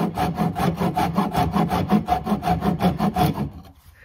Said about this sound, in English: sawing these high middle pieces off right here. So I'm gonna saw those straight.